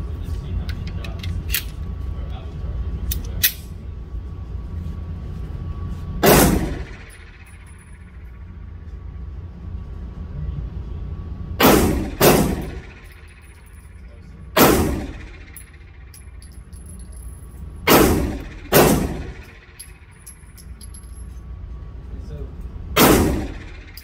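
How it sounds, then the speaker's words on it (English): A Sig P938 pistol fires five rounds at 7 yards, each shot a sharp, loud crack spaced a few seconds apart, with a brief initial cluster of clicks and handling noises before the first shot. "I'm gonna shoot the P938 again. All right, center dot and the center of the target, P938, 5 rounds, 7 yards."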